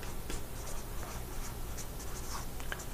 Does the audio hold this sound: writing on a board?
yes